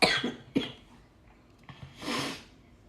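A couple of sharp, close coughs, then a pause and a breathy throat-clearing cough, with no talking.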